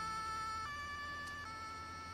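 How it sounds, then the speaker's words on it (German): Vehicle siren in Farming Simulator 19, a faint steady electronic wail with a clean pitched tone that steps between two notes, heard alone at low level. "Machen Sie mal Sirene an"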